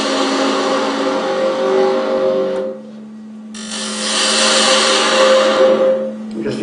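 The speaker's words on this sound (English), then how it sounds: "I'm just using a spindle detail gouge to do this." A wood lathe spins a peppermill blank while a spindle detail gouge cuts its bottom, giving a steady whirring hum with a harsh scraping cut that drops out briefly midway, then resumes loud and close.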